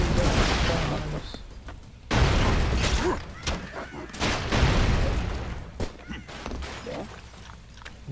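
Bomb explosions and gunfire in Broforce, heavy booming blasts and crashing debris mixed with bursts of shots, loud and close, with a voice talking over parts of the action.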